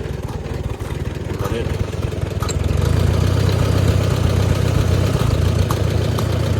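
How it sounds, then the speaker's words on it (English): A 1956 Farmall 100 tractor engine idles steadily nearby with a smooth, even mechanical chug that grows slightly louder and fuller partway through, then holds constant. "it'll sit there and it'll idle just as pretty"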